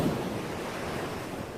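Ocean waves surging as a story sound effect after a storm at sea, a dense continuous rushing wash with low rumble and windy hiss, brief and steady.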